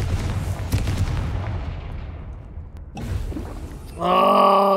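In the video game Hogwarts Legacy, a Confringo fire spell bursts with a loud, booming explosive blast that rumbles and fades, then a bright magical tone swells at the end.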